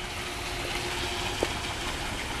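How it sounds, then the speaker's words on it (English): Pool waterfall pouring into a Pebble Tech finished backyard pool: steady, broad rushing of running water, continuous and even throughout with no voices. "I like the waterfall."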